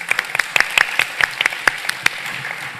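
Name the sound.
audience applause for the panelists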